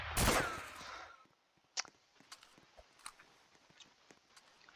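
A shotgun fires in a video game: one loud, near blast opens the scene with a decaying tail, followed by scattered faint clicks and small impacts.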